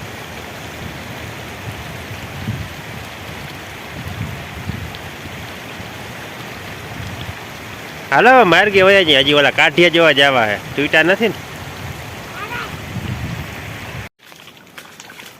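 Heavy rain pours over flooded fields and washed-out roads in a dense, continuous hiss. Someone talks over it for a few seconds midway, and the sound cuts off abruptly near the end.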